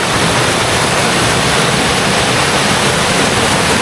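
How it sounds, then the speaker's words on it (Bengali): Steady rushing and splashing of water from an outdoor fountain on a dark, cloudy day with light drizzle, a loud, continuous broadband wash with no voices. "জলের আওয়াজটা শুনতে পাচ্ছেন।"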